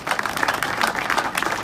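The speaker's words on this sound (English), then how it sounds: "clap hands" A church congregation claps hands together during a sermon, a dense, brisk patter of many hands at fairly close range, steady and loud for the whole moment.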